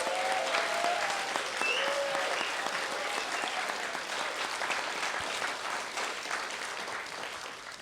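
A theatre audience applauds the cast taking a bow at a performance of It Can't Happen Here, sustained, even clapping from many hands that carries on throughout and fades slightly toward the end.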